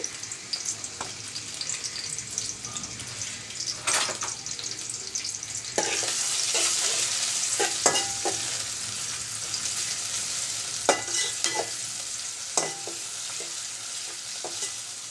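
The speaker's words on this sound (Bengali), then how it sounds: "প্রথমে দিয়ে দিব রসুন কুচি আর পেঁয়াজ কুচি" Chopped garlic and onion frying in oil in a pan, village-style home cooking, a constant close sizzle with intermittent spatula scrapes and clinks that grows louder partway through, no voices.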